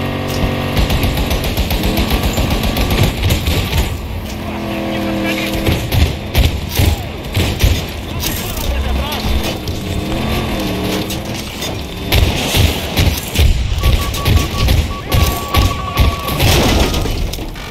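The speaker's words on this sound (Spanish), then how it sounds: "Tenemos un tanque disparando por la zona." Tank cannon blasts and heavy thuds in the shooter game Battlefield 2042 land in clustered bursts amid a dense, chaotic battle mix, with a voice talking over much of it.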